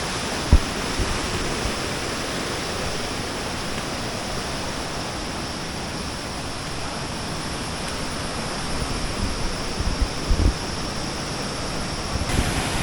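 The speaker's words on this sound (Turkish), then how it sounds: "ağaçlardan gözükemiyor tabii şelale. Gürültüsünü, uğultusunu duyuyoruz." A constant, even roar of rushing water from a distant waterfall hidden by trees in Indonesia, unbroken, with a few faint knocks near the end.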